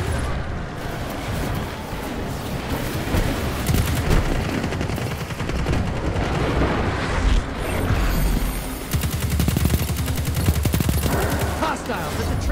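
Rapid gunfire in the video game Destiny 2, dense bursts of automatic shots and mechanical clatter that carry on loudly over a steady background, with occasional voice lines mixed in.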